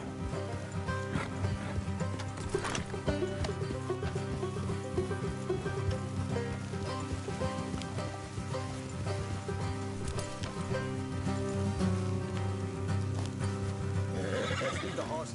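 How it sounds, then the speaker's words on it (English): Horses in Red Dead Redemption 2 neigh and whinny over steady clip-clopping hooves, set against a continuous game music and ambience bed, with a louder whinny near the start and no talk. "Let's leave the horses here and go the rest on foot."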